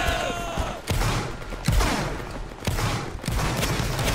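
A line of soldiers fires musket volleys in a large video game battle, with several loud crackling bursts of massed gunfire in quick succession filling the space up close.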